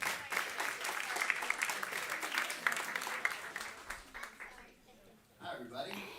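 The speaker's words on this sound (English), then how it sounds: "Please give him a round of applause." Audience applause greeting Sam Kass at a Climate Week NYC conversation on regenerative food systems, steady dense clapping with a few laughs that fades briefly near the end before a short burst resumes.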